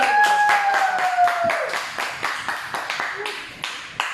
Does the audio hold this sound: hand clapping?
yes